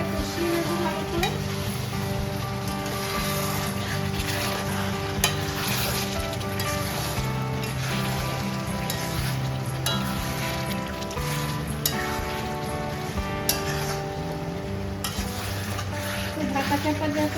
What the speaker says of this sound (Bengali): এরকম করে আমি চিকেনটা কষিয়ে নেবো ভালো করে।